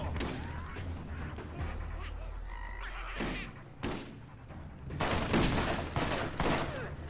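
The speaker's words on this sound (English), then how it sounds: "I do like this combat rifle though." A combat rifle in Borderlands fires in several sharp bursts, most heavily in the last few seconds, mixed with other game noise and a voice.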